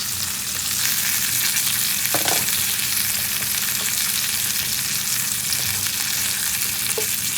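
Food fries in an electric skillet with an even, dense sizzle that holds steady throughout, broken by a few faint taps, and no speech.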